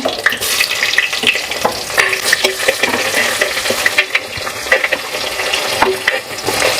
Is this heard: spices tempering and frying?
yes